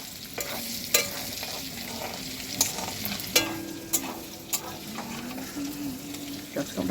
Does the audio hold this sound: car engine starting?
no